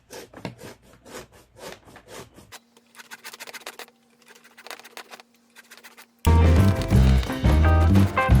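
A lemon zested by hand with a grater gives brisk rasping scrape strokes at first, then near-quiet with a faint steady hum, and finally loud music comes in.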